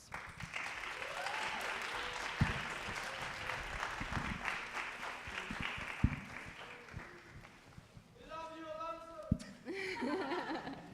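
Festival audience giving a round of applause for a host and panelists, a sustained wash of clapping mixed with some chuckles and murmured voices, dropping away near the end as a voice speaks.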